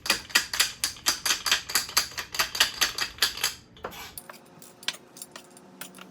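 A kitchen knife in need of replacing chops rapidly on a cutting board, a steady run of sharp close taps for about four seconds, then stops, leaving faint scattered clinks.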